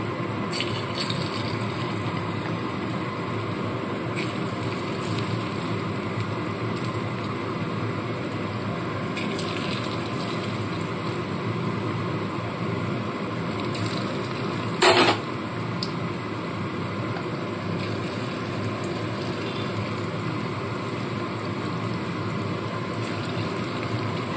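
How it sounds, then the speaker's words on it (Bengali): Small fish pieces fry in hot oil for chilli fish, producing a steady, even hiss that holds throughout, broken by one brief sharp sound midway. "এবার এখান থেকে ছোট ছোট মাছের টুকরোগুলোকে নিয়ে এক এক করে তেলের মধ্যে দিয়ে দেবো"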